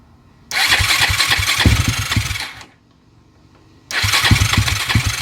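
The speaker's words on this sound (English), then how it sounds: "I wheeled the ATV outside for hopefully what is going to be a startup." Yamaha YFZ450 ATV engine starting outdoors, with two loud bursts of revving separated by a brief quiet gap, the engine cutting off and then firing again, no talking.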